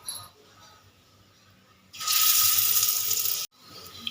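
Pointed gourd pieces drop into hot mustard oil in a kadai, setting off a sudden loud hiss that holds steady for about a second and a half, then cuts off abruptly.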